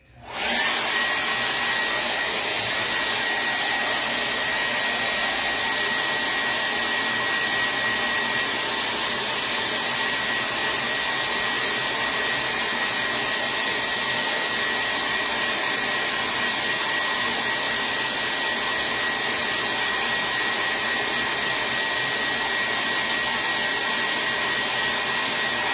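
A hair dryer blowing steadily to dry chalk paint on a painted porch sign, a loud, constant whooshing hum with a faint high whine, running alone without pause.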